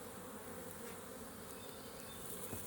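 Honeybees swarm around an opened hive during an inspection, a dense steady buzzing hum filling the air close by, with no voices.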